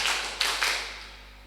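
Hand claps in a group clapping game at a school student leadership training event, a few sharp claps with a roomy wash, the loudest at the start and two distinct bursts around the middle before fading.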